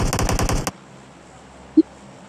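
Video game gunfire with an enemy shooting from behind comes as a short rapid burst of about six shots, then stops and leaves faint background hiss.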